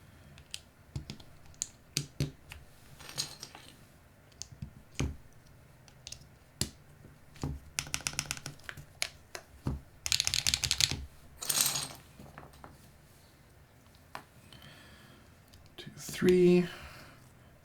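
Close, sparse keystrokes on a custom-built computer keyboard, with scattered clicks, a few quick bursts and pauses between, plus a brief louder rustle near the end.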